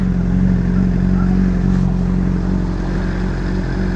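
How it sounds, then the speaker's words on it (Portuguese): A Honda CBR600RR motorcycle engine holds a loud, steady high rev close by while the bike spins, a continuous buzzing roar with no talk. "Piãozinho de RR pra vocês aí."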